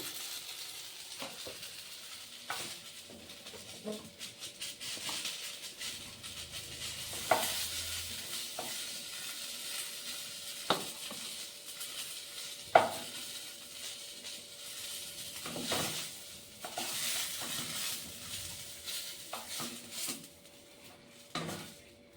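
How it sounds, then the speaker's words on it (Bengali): Eggplant pieces fry in hot oil in a pan, a soft continuous sizzle punctuated by scattered clinks and scrapes of a spatula stirring and turning them. "সবগুলি বেগুন ভালোভাবে ভেজে নেবো"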